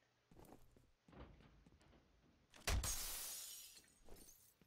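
Glass shattering in the shooter game F.E.A.R.: a few soft footstep-like thuds, then one loud sharp crash of breaking glass followed by a tinkling, hissing tail that slowly fades, with light movement sounds after.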